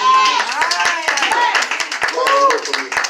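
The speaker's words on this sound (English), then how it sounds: "It was on y'all little cheap hand claps." A church congregation claps hands at a sermon, a quick rhythmic run of sharp claps going on continuously and loudly, with a preacher's voice carrying over them.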